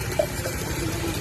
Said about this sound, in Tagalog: Malakas ang kwan ng buga ng tubig nyo dito.